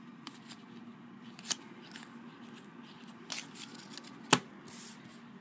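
Panini FIFA World Cup 2010 trading cards are flipped through by hand: a few soft, brief card snaps and rustles spaced out over quiet, with no talking.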